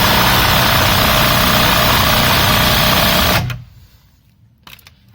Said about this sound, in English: then using your impact driver or socket set,